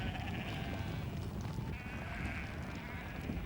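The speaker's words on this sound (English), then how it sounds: "Sheep on their way to shearing." Sheep on the Falkland Islands, in 1983, bleat while being driven to shearing; a flock's overlapping calls sound steady and fairly close over constant outdoor noise, with no talk.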